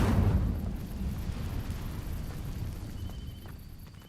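An Incendio fire spell ignites dry vines in Hogwarts Legacy with a sudden whooshing burst, followed by a rumbling, crackling roar that slowly fades over several seconds.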